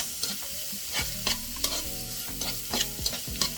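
Fried rice stir-fried in a pan, a continuous sizzle punctuated by repeated scraping and tossing strokes of a spatula against the metal, close up, with no talking.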